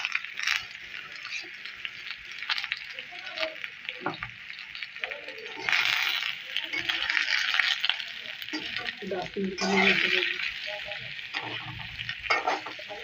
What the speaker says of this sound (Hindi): और अब हम इसमें प्याज करेंगे फ्राई।